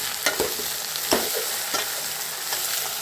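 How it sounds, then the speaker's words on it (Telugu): Bottle gourd and tomato pieces fry in a pan while being stirred, giving a steady close sizzle with scraping spoon strokes at irregular moments. "ఇట్లా కలగొస్తూ ఉంటే వేగుతుంది"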